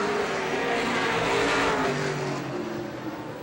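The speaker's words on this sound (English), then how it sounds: "Cabral hooks up on the outside of Marson as they blast into that third turn" Pro stock race cars racing at Star Speedway in 1993, a loud continuous engine roar from several cars blasting through a turn, swelling and then easing slightly as they pass.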